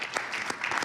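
A brief burst of applause by acclamation at a formal meeting, many hands clapping in a dense steady patter, moderately quiet and heard alone.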